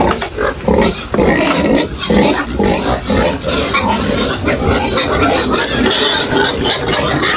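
Large piglets kept in a pig pen squeal and grunt loudly and continuously, a dense, noisy chorus of overlapping animal cries with no pauses.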